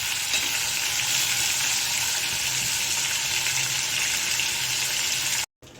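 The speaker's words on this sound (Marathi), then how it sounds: "हे आपलं सगळं चिकन फ्राय करून झालेलं आहे" Chicken pieces fry in a hot pan with a steady, loud, continuous sizzle close up that stops abruptly at the very end.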